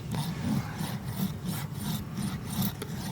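A farrier's rasp scrapes across the hard hoof wall of a massive draft horse, steady rhythmic back-and-forth strokes, close and fairly loud with no talking.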